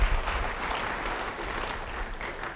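A church congregation claps steadily, a dense even patter of applause that stays fairly constant and tapers slightly at the end.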